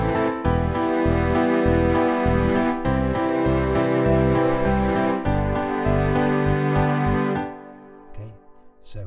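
Keyboard chords from a colour-coded harmony lesson, a melody over a chord 1 to chord 5 progression with steady rhythmic bass notes, loud and close, ending in a fading release with no talking.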